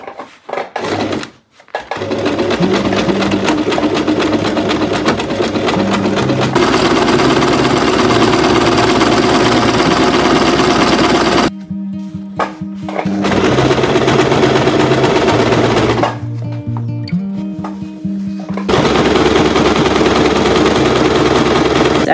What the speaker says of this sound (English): I think I will add a zigzag stitch to all around this.